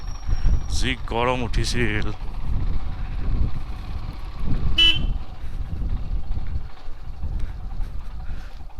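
A motorbike riding along a road from Majuli toward Mazbat in Assam, with a steady engine drone and rushing wind noise heard close by. A rider speaks briefly over it, and a short horn-like toot sounds partway through.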